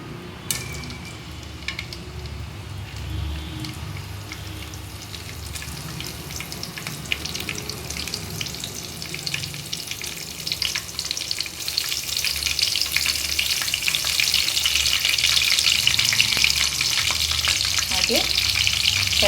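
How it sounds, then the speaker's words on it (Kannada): Whole garam masala spices fry in coconut oil with a steady, close sizzle that builds louder toward the end, with occasional stirring clinks in a home kitchen for aloo chicken curry. "ನಾನು ತೆಂಗಿನ ಎಣ್ಣೆ ಯೂಸ್ ಮಾಡ್ತಿದ್ದೀನಿ ಹಾಗೆ ಇದಕ್ಕೆ ಗರಂ ಮಸಾಲ ಹೋಲ್ ಸ್ಪೈಸಸ್ ಹಾಕೋಣ"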